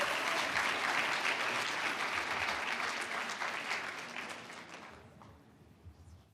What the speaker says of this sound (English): Round of applause for Cisco.